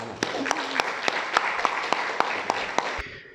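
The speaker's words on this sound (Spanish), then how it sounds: "Vamos a darle un aplauso." Brief applause from a small group at a book presentation in San Andrés y Sauces, La Palma, steady claps with a few sharp louder ones standing out, fading quickly at the end.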